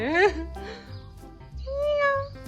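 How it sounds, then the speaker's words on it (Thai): A cat meows a few times, a rising cry followed by a longer drawn-out meow, with a low hum of background noise. "เจอเสียงแมว"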